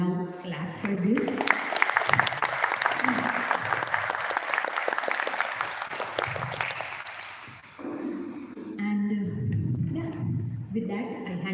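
An audience at a school induction event applauds the teachers, a full round of clapping that swells and then trails off, with talking heard before and after.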